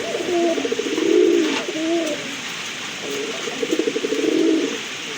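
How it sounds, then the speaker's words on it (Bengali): A pair of pigeons coos close by in two long rolling bursts separated by a short pause, clear and alone with no voices. "খুবই সুন্দর ভালো মানের এক জোড়া কবুতর"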